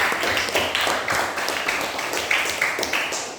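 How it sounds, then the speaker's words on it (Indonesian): Students in a classroom applaud two classmates, a loose patter of many hands clapping steadily at moderate volume for a few seconds. "Tepuk tangan untuk kedua teman kalian ya."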